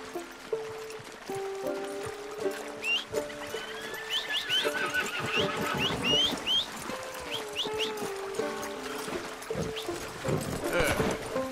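A horse in the video game Red Dead Redemption 2 neighs and whinnies several times at close range, with hoof clops, a musical score underneath and brief spoken lines around it.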